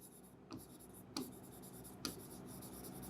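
Pen writing on paper while entering purchase-book accounting details: a few brief, soft scratching strokes against steady background hiss, close and quiet, with no speech.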